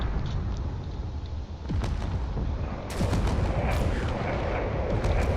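Continuous weapons fire and rapid point defense shots crackle through a space battle in Drone Wars, a dense stream of pops and bursts with a few heavier impacts and no talking.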